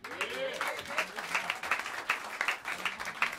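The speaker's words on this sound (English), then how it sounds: "give a warm round of applause for the great Joel Farnsworth on the drums" Jazz club audience applauding a drummer, moderate clapping with some crowd noise, partly under an announcer's voice talking over it.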